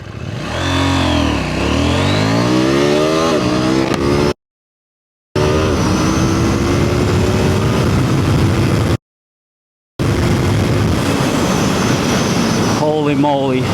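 A KTM 790 Duke motorcycle accelerates hard, its engine note sweeping up through repeated rising gear pulls, loud and close, with two brief silent gaps breaking the run.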